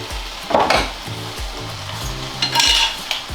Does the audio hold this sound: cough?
no